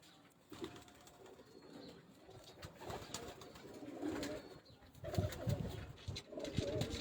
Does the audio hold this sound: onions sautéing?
no